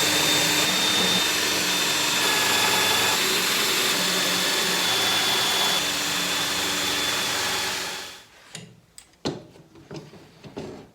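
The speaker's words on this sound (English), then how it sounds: "So that's all the holes drilled, top down." A power drill bores holes through a wooden console table top, a loud, steady whir running for about eight seconds before stopping, followed by a few sharp clacks and knocks of handling.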